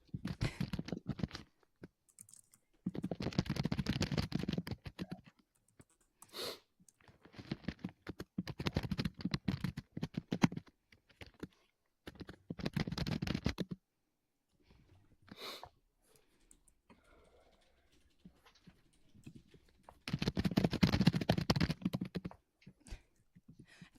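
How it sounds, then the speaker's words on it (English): Loud typing on a mechanical keyboard comes in several dense clattering bursts separated by quiet gaps, close and dry, with no talking. "he has a mechanical keyboard and he types so loud"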